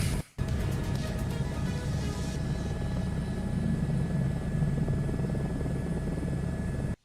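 A helicopter in Microsoft Flight Simulator 2024 gives off a steady, close rotor and engine drone with a low thrum and a high whine, beginning and ending abruptly.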